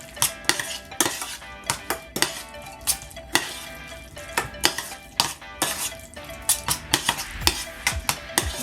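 A spoon clatters and scrapes rhythmically around a bowl while tzatziki ingredients are mixed into yoghurt, with dozens of quick, close metallic taps and swishes in an uneven, busy pattern and no talking.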